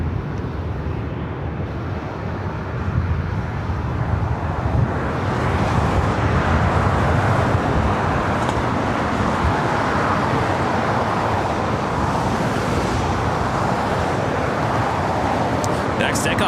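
A Japan Airlines 787-9 Dreamliner taking off from the north side at LAX, a broad rumbling roar that swells after a few seconds and holds steady and loud, with a voice talking over it.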